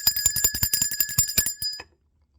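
A bicycle-style bell rings rapidly and repeatedly, bright metallic dings close by, then stops abruptly and leaves silence.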